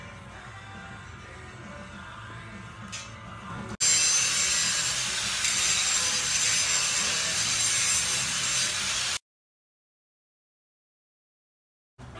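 A power grinder works on metal while the seats and floor are stripped from a kart, a loud, steady abrasive roar lasting several seconds before it cuts off abruptly to silence.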